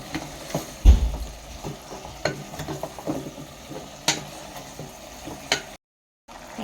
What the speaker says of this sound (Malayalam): ഇനി ഗൈസ് നമ്മളിത് നല്ലോണം മിക്സ് ചെയ്യാം